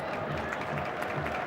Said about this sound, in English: Round of applause for the player, also playing his last game for Gremio.